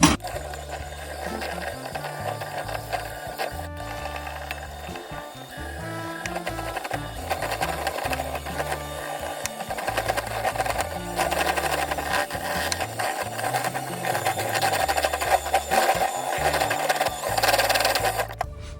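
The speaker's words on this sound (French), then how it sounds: "je vais reprendre mon batteur électrique" An electric hand mixer whipping softened butter, with a steady close mechanical whir and rattling beaters scraping the bowl, running continuously and getting slightly louder toward the end, with no voices.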